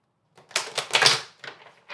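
A quick burst of papery shuffling, several rapid riffles of oracle cards close up, with a short pause before a final softer shuffle.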